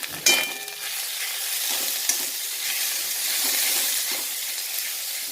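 Garlic paste fries loudly in a pan as a dense, continuous sizzle, close and steady, with an occasional clink of a stirring utensil.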